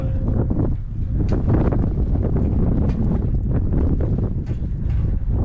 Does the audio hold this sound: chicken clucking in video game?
no